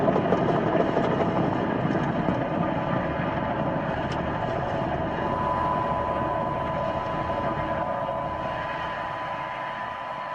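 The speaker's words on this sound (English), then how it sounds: "Falcon 9 has successfully lifted off from Space Launch Complex 40 at Cape Canaveral Space Force Station in Florida." SpaceX Falcon 9 rocket lifting off from Space Launch Complex 40 at Cape Canaveral, Florida, its Merlin engines giving a steady, broad, distant roar that holds at an even level throughout.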